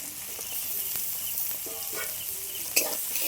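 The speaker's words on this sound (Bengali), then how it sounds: "ভালো করে খুন্তি দিয়ে আমি মিক্স করে নেব। কেটে রাখা মাংসটা আমি দিয়ে দেব।" Chicken pieces fry with a steady close sizzle while a spatula stirs and scrapes through them, giving soft scraping strokes and a sharper clink near the end.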